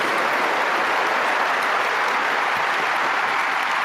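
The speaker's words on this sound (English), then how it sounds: "So let's get an applause out now." An audience claps steadily and densely throughout at a celebration stream marking the anniversary of the birth of Joseph Smith, a continuous wash of hands with no voices on top.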